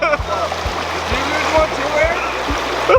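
Creek water splashing and rushing along a backcountry route in Oregon, with steady close splatter and regular low thumps, as if someone is wading or playing in the stream.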